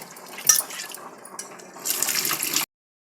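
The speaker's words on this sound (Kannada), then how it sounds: "ನೀರು ಹಾಕ್ತಾ ಇದ್ದೀನಿ" Water poured into a cooking pot while making sambar with dal, tomato and spices; a close, uneven splashing pour with a brief louder burst, then a steadier stronger stream before it stops abruptly.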